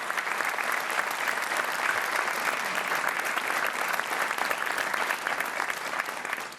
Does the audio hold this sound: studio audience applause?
yes